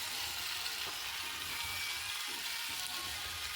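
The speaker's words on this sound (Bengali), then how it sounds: "একটু ভালো করে ভেজে নিয়ে তারপর এটাকে কষাতে হবে মশলা দিয়ে" Thick-cut onions sizzle steadily in a pan of oil tempered with bay leaf, dried red chillies and asafoetida, a soft continuous hiss of frying with no voices over it.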